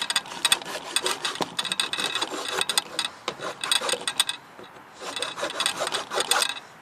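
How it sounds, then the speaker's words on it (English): A hand rasp scrapes across wood while shaping part of a homemade advent calendar, in quick, uneven bursts of close rasping strokes that stop briefly and then resume. "So I'll just need to rasp it."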